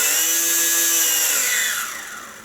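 A HobbyZone Champ RC plane's small electric motor revs with a loud, high steady whine that winds down over the last half second.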